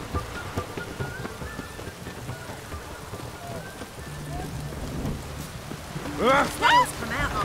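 Rain and rolling thunder in the video game The Witcher 3, a continuous wash of falling rain under low rumbles, with game voices and sounds layered over it and a brief cluster of louder tones near the end.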